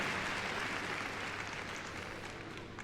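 An arena audience at the Crufts dog show applauds after a freestyle heelwork to music routine, with dense, continuous clapping that holds steady and then slowly tapers off.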